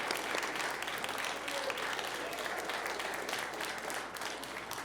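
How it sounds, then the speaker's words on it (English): A room of attendees at a State of the City address applauds city staff as they stand to be recognized: sustained, even clapping from a large crowd, moderately distant and steady throughout. "Let's give them a round of applause."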